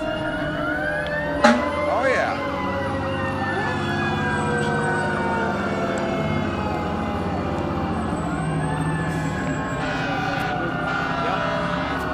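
A fire engine siren sounds at an autumn parade in Woonsocket, a continuous wailing tone with a short horn blast near the start, over crowd and engine rumble, with brief talk.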